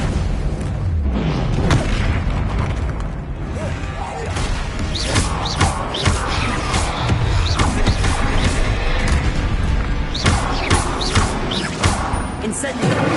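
Fire spell Incendio cast amid rapid spell combat in Hogwarts Legacy: dense, loud booms, crashes and thuds fire in quick succession with hardly a pause, forming a continuous barrage of close impacts.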